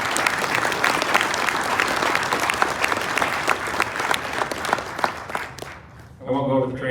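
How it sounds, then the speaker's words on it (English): A crowd applauds the Honor Guard and piper at a fall recruit academy graduation, loud sustained clapping that thins out near the end before a voice begins speaking. "Let's do a round of applause for the Honor Guard and the Piper."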